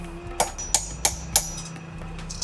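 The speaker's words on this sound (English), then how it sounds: "This is my hammer, and then after pressing it." A hammer striking lead pressed onto silver in a jewellery mold, four sharp metallic taps evenly spaced over a low background hum.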